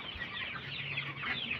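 Soft, continuous clucking from several bantam chickens nearby, a low murmur of fowl sounds with no talking.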